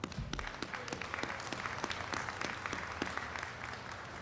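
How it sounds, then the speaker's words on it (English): Audience applause at an outdoor ribbon-cutting ceremony opening a new section of the North South Freeway, a steady moderate round of many hands clapping, fairly distant, with no talking over it. "So give yourselves a round of applause."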